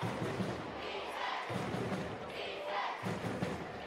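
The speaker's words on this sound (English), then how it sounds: "The players are cheering up each other on the sidelines." Handball players on the sidelines of a final between Koge Handbold and Sokol Písek cheer each other on, a moderately distant rumble of crowd shouting and voices with a few dull thuds in a busy arena.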